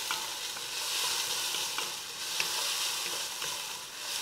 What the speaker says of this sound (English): let me give these onions a stir here